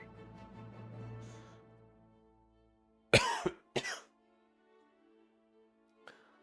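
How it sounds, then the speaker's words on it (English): A person coughs at close range, a sharp burst of two quick coughs followed by a third, after a stretch of low murmuring throat sounds and a faint hum, then quiet. "Oh, I hope this cough goes away"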